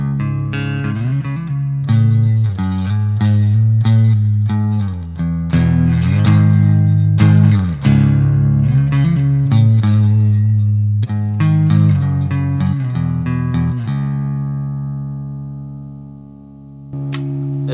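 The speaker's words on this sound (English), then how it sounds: "This is the reverb from the Blugitar." An LTD Horizon Deluxe (H-1001) electric guitar played through Blugitar reverb, ringing chords and single notes with long, washy decay, loud and close, ending on a sustained chord that fades out.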